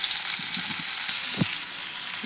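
Sliced onions sizzle steadily in hot oil in a pan while frying for a chutney, a continuous close crackling hiss with a few soft stirring knocks and no voice.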